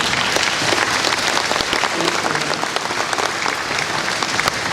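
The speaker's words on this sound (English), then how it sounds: "Please give them a round of applause." Steady, dense applause from a luncheon audience carries on for nearly five seconds at an even, moderately loud level, with no voices rising above the clapping.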